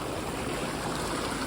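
Steady broadband rush of a river flowing in Jemez Valley, New Mexico, close by and continuous with no voices.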